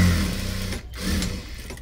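A sewing machine runs steadily while stitching the hook strip of a blouse, a continuous mechanical whir close by that dips briefly in the middle before carrying on.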